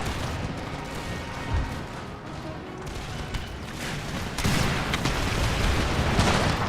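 Heavy artillery in a battle of the game Empire: Total War rumbles in dense, overlapping booms and crackling volleys, growing louder and thicker partway through.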